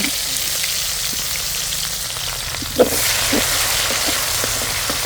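Raw onion fries in hot oil with spices, a constant crackling sizzle, up close, with an utensil knock midway and light stirring clicks afterward, no talking.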